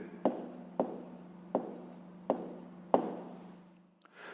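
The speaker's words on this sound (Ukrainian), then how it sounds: "Записуємо тоді відповідь і пишемо 44 риби." Pen strokes on paper as an answer is written by hand, five distinct scratchy taps at roughly even intervals, close and clear with a quiet background.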